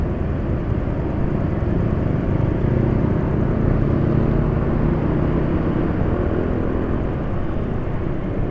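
A rough, steady Yamaha NMAX scooter engine, running on Mesran Super SAE 40 diesel oil, drones with low rumbling and a coarse, uneven texture, running continuously up close without any voices.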